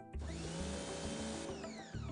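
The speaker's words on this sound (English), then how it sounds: "Now the high pressure washer can be switched on and used to clean." A high pressure washer with a 3-in-1 rotating nozzle runs at close range, a steady loud motor and pump drone with a dense hiss from the water jet, holding unbroken for about two seconds.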